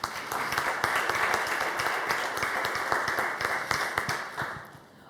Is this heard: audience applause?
yes